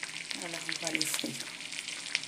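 Food sizzles in a pan, a bright, close crackle of frying that stays steady, with faint murmured speech underneath.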